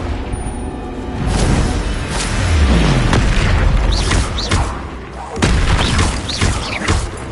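A Confringo fire spell detonates in the game Hogwarts Legacy, booming blasts and bursts with crackling debris. A voice calls out between repeated loud explosions.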